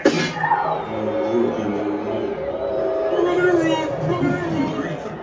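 Waiting crowd on the Muppets Rock 'n' Rollercoaster at Disney, a steady murmur of many voices with scattered louder calls, close and continuous throughout.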